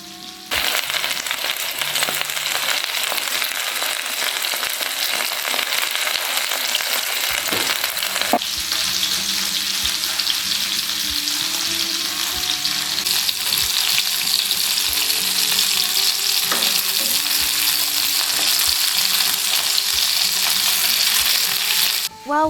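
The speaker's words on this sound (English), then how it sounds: "Flip them a few more times to make sure the heat penetrates all the way through, perfectly cooking the chive filling inside." Chive-filled pancakes fry in a pan with a loud, constant hiss of sizzling oil, punctuated by a few scraping thumps as they are flipped.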